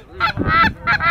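Several geese honk in quick bursts overhead during a goose hunt, loud harsh calls repeating in two or three clusters with a little background noise underneath.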